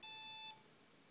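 A drone's electronic speed controller gives a single beep during throttle calibration: one loud, steady electronic tone lasting about half a second, then quiet.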